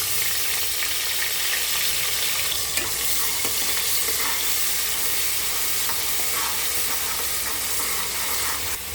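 Ginger garlic paste fries in hot oil for biryani, a dense, continuous sizzle and hiss with faint scraping of stirring, steady and close with no talking.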